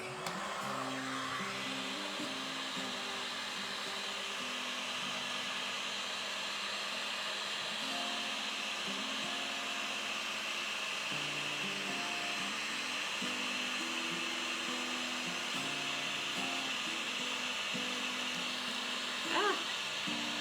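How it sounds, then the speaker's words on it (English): A hair dryer blows steadily and loudly up close for the whole stretch, drying a small painted carrot clothespin craft piece, with its motor pitch wavering slightly as it is moved around. "let me dry this little carrot clothespin quick"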